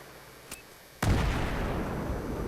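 Two C4 charges detonating beneath a tank in Battlefield 3: a small pop, then a sudden loud blast at one second that rolls into a sustained heavy rumble and debris roar to the end.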